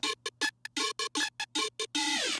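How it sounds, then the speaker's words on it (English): Synth sound run through a frequency shifter, played as a rapid sequence of choppy stuttered blips with silent gaps, finishing on a held note with sweeping, bending overtones, isolated and moderately quiet. "I added some frequency shifter and got this sound."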